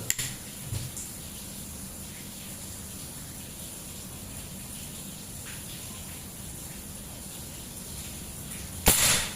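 One PCP air rifle shot from a custom folding stainless rifle running 3000 psi, a short sharp crack near the end after several seconds of quiet hiss, heard close and alone.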